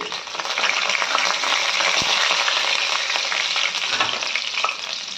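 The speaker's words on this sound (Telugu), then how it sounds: "జీలకర్ర బాగా వేయించిన తర్వాత 1/2 టీ స్పూన్ గార్లిక్ అండి." Cumin seeds and garlic fry in hot oil for tomato khichdi, giving a steady, close, bright sizzle with a stirring scrape partway through and no voices.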